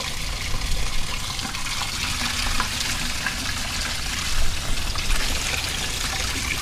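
Water pours steadily into a 5-gallon bucket of sand, a continuous loud, close rushing splash with slight swells and no talking.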